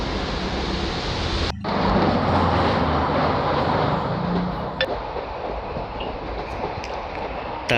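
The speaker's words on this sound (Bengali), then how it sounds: "ট্রেন ছেড়ে দিয়েছে।" An early morning passenger train pulls out of Sealdah station, giving a continuous rolling rumble and rattle of wheels on track. There is a brief dropout near the start and faint clicks over the steady noise.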